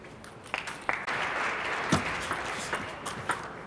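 Applause from the crowd at a 2013 Austrian Open men's singles quarterfinal badminton match, a steady wash of clapping with a few sharper bursts standing out, moderately loud, with no one talking.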